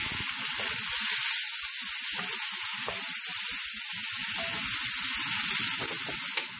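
Shrimp sizzle steadily in hot oil in a wok, a continuous crackling fry that stays fairly loud and even throughout, with a few soft stirring clicks and no voices.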